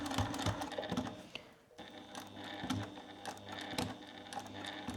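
A sewing machine back stitches on a boxy makeup bag, close and rapid mechanical chattering in short bursts with a brief pause between runs.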